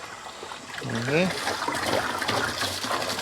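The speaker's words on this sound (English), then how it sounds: "Now we're filling our bucket." Water from a hose runs steadily into a bucket beside a Hatteras GT boat with a soft splashing trickle, while a voice talks briefly over it.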